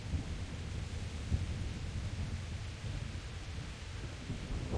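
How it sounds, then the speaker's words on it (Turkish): Steady rain with low rumbling thunder in the medieval game Kingdom Come: Deliverance, a continuous wash of downpour under a deep, even roll that swells slightly, with no voices. "Hava bayağı yağmurlu ya."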